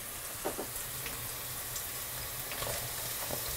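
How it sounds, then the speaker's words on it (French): Diced zucchini sizzles steadily in a frying pan, a close, even crackle of oil with a few faint clinks of stirring, no voices. "Je vais les mettre dans la poêle."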